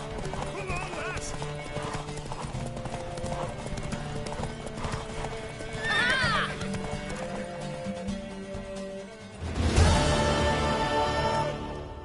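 Horse hooves clip-clop steadily in a video game, and a horse lets out a loud whinny partway through. Character voices speak over the hoofbeats, and a louder burst of sound comes near the end.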